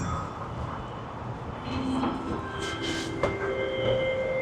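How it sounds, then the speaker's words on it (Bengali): LRT train pulling into an elevated station in Malaysia, a steady rumble of rail noise with a brief metallic clank and a rising tonal whine near the end, close by and alone without talk. "আমাদের ট্রেন চলে আসছে উপরে।"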